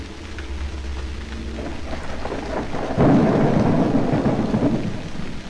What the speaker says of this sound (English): It's raining. In case you couldn't tell.